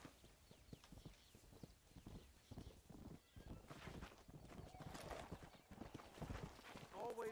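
Horse hooves clip-clop at a steady gallop in the Western video game Red Dead Redemption, with a whinny near the end; someone talks over the hoofbeats.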